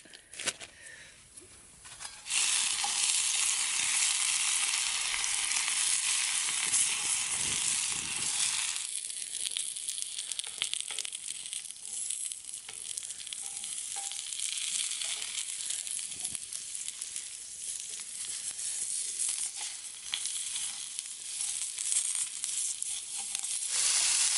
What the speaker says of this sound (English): onion, and sausage. One of my favorite things. We're gonna have us a little fry up.